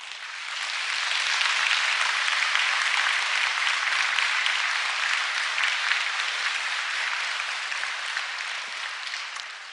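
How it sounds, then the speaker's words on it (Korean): A church congregation at a Wednesday worship service gives a loud, dense round of applause to welcome Pastor Cho Kyung-ho to the pulpit. The clapping is steady and sustained for the whole stretch, then eases slightly at the end. "나오실 때 큰 박수로 맞이해 주시기 바랍니다"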